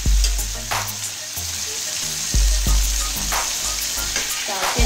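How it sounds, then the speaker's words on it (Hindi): Beef sizzles loudly in a hot karahi over high heat while a utensil stirs it, with repeated scraping clanks against the pan over the steady frying hiss. "अच्छी तरह से इसको आप फ्राई को हिला दें।"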